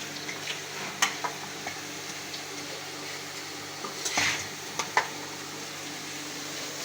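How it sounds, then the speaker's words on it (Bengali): Potatoes fry in oil until reddish, giving a soft steady sizzle with a few light clicks and stirring scrapes scattered through it, and no talking. "এবার আলুটা ভেজে নিচ্ছি লাল লাল করে"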